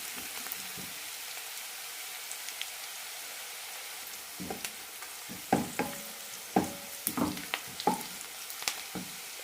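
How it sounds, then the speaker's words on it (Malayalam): Chopped onion and green chilli sautéing in a pan for broken wheat biryani give a soft, steady sizzle, joined later by a few louder stirring knocks and scrapes, with no voices. "സവാള ചെറുതായി ചോക്കുമ്പോൾ തന്നെ ബാക്കിയുള്ള ചേരുവകൾ ചേർക്കാം"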